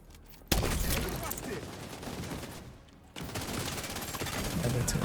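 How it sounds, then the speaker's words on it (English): Loud bursts of automatic and mixed gunfire in a video game, a near continuous fusillade with a short lull before it resumes at full intensity. "I hear gunfire."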